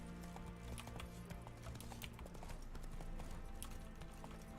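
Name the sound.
hooves of Geralt's horse Roach in video game The Witcher 3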